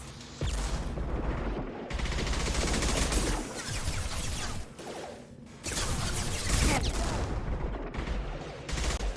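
Bursts of Mass Effect 2 combat gunfire, including shotgun blasts, arrive in dense loud volleys separated by brief lulls, with booming impacts over chaotic battle noise.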